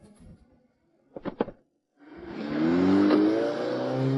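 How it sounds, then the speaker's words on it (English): A car engine starts up and pulls away after a couple of short thumps, rising into a loud, steady drone that holds close by until the end. "he opened the car door and drove away"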